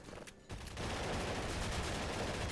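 A gun turret in Half-Life 2 SMOD Redux opens up after a short quiet lead-in, then keeps firing a loud, rapid, sustained burst to the end.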